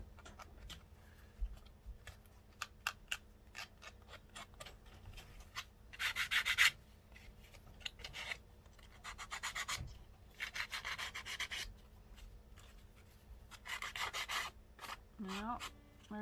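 Paper is roughed up for a vintage photo texture with quiet, irregular scratchy rubbing strokes that come in short bursts and longer scraping passes, close up and soft, with no talk.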